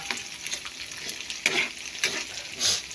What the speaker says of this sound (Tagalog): sa ginisang toge ay piniprito yung mga sahog